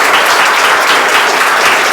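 Students at a school prize-distribution event break into dense, steady applause, loud and close, filling the moment with continuous clapping and no pause.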